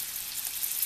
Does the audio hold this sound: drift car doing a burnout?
no